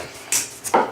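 A knife cuts down through a butternut squash, two quick crisp chops close together within a second, near and distinct.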